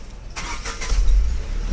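A Tata Nexon Smart+ S CNG with a knocking-sound fault is started: a few light clicks give way to a low engine rumble that swells and keeps running close by.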